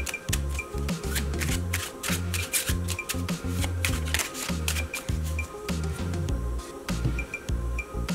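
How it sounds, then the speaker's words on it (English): A deck of playing cards is shuffled by hand close up, giving repeated crisp riffling bursts and soft slaps in a steady rhythm with no talking. "take a deck of cards and shuffle them as you know how."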